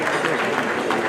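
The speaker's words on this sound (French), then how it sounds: "Félicitations à Monsieur Babacar Ndiaye, qu'on applaudit encore bien fort" Audience applause for award recipient Babacar Ndiaye at the Cauris d'Or awards ceremony, a steady dense patter of many hands clapping, fairly loud and continuous through the short moment.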